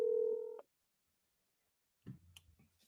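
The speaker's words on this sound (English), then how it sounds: "I'm calling Dan." A single sustained telephone keypad tone sounds clearly for about half a second, then silence, followed by a brief faint rustle of noise.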